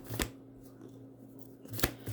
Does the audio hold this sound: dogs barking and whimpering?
no